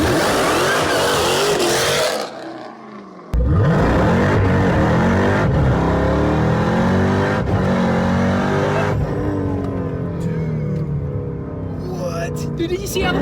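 A 1000 HP Jeep Trackhawk doing an all-wheel-drive burnout: loud roaring engine revs with shifting pitch, a brief drop, then sustained high revs and tire noise, close and overpowering.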